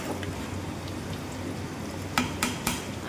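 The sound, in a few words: potatoes frying with turmeric in a pan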